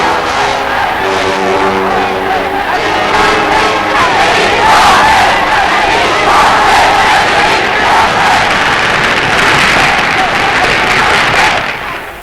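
A huge crowd in the Algiers forum in 1961 acclaims the four coup leaders with continuous loud cheering, shouting and applause, dense and unbroken throughout.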